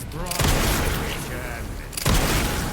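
Gunfire from the Resident Evil Requiem video game, two loud booming shots about a second and a half apart with a dense rumbling tail between them, heard during a boss battle sequence.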